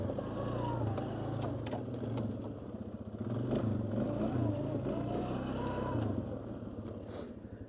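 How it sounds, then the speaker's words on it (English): A 1999 Polaris Sportsman 500 ATV drives in low range at 15 to 20 mph, its engine droning steadily with a continuous transmission whine riding over the motor, close and fairly loud throughout. "hear this transmission, you get up into low range doing 15, 20 miles an hour, starts whining pretty good."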